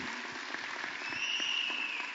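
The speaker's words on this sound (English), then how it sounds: "Can we give Helen a round of applause, please?" Attendees at a neighborhood budget town hall meeting applaud for Helen, a brief, moderately loud patter of many hands clapping heard from a short distance.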